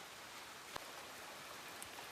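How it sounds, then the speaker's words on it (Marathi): Heavy rain falling on the trail at Mahuli Fort during a monsoon trek, a soft, even hiss with one or two sharper drops, faint and steady throughout. "तर इथे पाऊस जास्त पडतोय."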